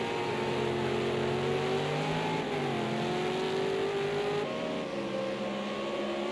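Race cars in an ANZCRL Super2 race at Donington Park National accelerate and rev continuously, engine notes rising and shifting through gears, loud and steady throughout.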